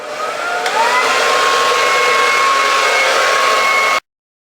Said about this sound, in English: I point the dryer like towards my neck and really aim it down